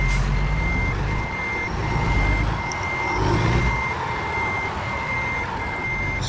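Truck reversing beeps repeat steadily over a low engine rumble as a trailer is backed into a parking spot in American Truck Simulator, with no talking.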